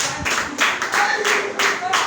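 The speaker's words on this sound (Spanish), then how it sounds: "Brinde ese fuerte aplauso al Señor" Bursts of clapping from a church congregation during a sermon, rising and falling in several waves, with voices mixed in underneath.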